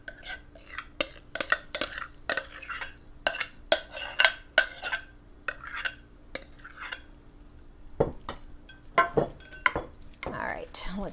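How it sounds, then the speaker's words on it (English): A cheesy broccoli and rice cheddar mixture is scraped and dumped into a casserole dish. Irregular clinks and scrapes of a utensil against the dish sound up close, with soft pauses between them. "Let's go ahead and dump this into our casserole dish."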